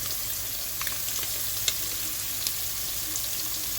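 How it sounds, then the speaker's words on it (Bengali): Prawns fry with egg in a pan, giving a continuous close sizzle with faint crackles and occasional stirring taps, and no voices. "চিংড়ি মাছ দিতেছি যেন ডিমের ফ্লেভারটা ভালো আসে"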